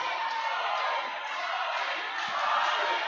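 Wrestling crowd at an ASWA show backing Robby Collins, a dense, steady roar of cheering and shouting that fills the arena for the full few seconds, swelling slightly near the end.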